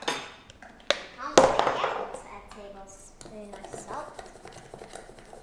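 Salt being stirred into a spice rub for pork ribs in a bowl, with spoon clinks and scraping against the bowl, a couple of sharp knocks, and a voice talking over the mixing.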